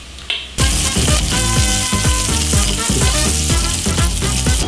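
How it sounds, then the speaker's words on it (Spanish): Bacon sizzles loudly in a frying pan while cooking for pasta carbonara, a sudden burst of crackling and spitting fat that continues strongly and evenly, with light scraping pops scattered through it. "aquí voy a poner un poquito de tocino"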